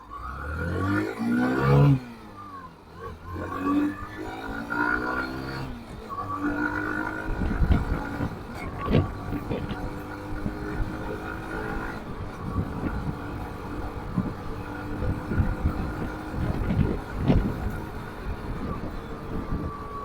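A 2024 Hero Glamour 125 motorcycle pulls away and accelerates through its gears, the engine note rising in pitch, dropping at each shift and climbing again, steady and moderately close with road and wind noise.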